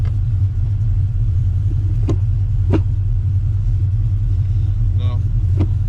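A 1994 Chevy Silverado with an LS engine swap idles steadily with a deep, constant rumble close by, a few faint clicks and a short voice sound over it as the truck is shifted into drive.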